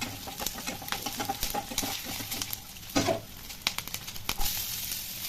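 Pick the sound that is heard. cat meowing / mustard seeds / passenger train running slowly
mustard seeds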